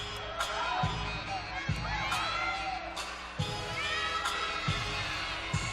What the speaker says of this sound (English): Crowd is really involved with her routine.